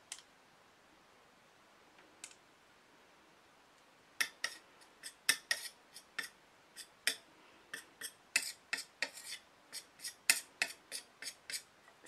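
Quiet, crisp ticks and clicks of a small tool working crushed eyeshadow powder with alcohol solution, coming in a fast irregular series of light taps, close and faint with no talking.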